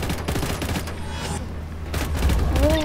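Rapid bursts of gunfire ring out in Just Cause 3, loud crackling volleys fired in quick succession that fade briefly and then return, with game sounds behind them.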